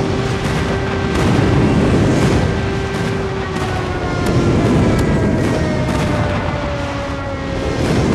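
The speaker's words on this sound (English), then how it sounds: "Friendly airstrike incoming." A friendly airstrike in a first-person shooter game brings sustained loud, rumbling explosions and booming blasts with a dense roar, layered with steady tonal hums throughout.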